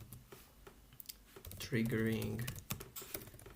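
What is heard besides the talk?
typing on a computer keyboard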